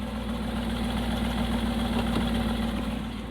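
An Aston Martin V8 Vantage idles with a fuse pulled, a steady, close, loud low rumble holding an even note throughout with no speech.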